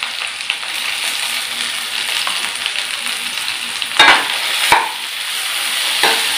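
Green beans frying in a pan over medium flame, stirred with a utensil: a steady close sizzle throughout with a few sharp scraping knocks near the end and no one talking.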